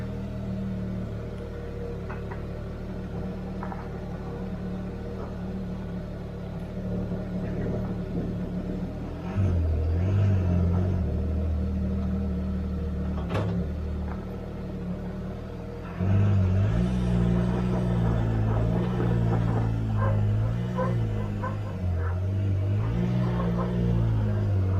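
A Ford Maverick pickup truck rolls through a full-lock turn, with a steady low engine rumble and drone that swells twice as it pulls away, heard from inside the cab with no talking.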